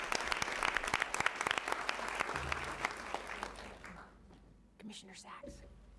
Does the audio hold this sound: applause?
yes